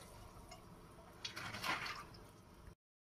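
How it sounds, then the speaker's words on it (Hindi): Dried green moong beans tipped into hot water in a pressure cooker make a brief watery splash and trickle that swells in the middle and fades out, close and fairly soft over a faint background hiss. "अब इसमें मैं मूंग डालूंगी क्योंकि हमारा पानी गर्म हो चुका"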